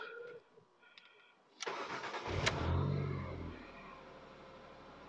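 A Ford Mondeo ST220, newly fitted with an inlet gasket, spark plugs and a rocker cover gasket, cranks after a quiet moment and catches. It revs briefly, then settles into a steady, close idle.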